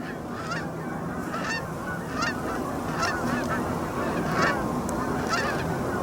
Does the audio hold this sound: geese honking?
yes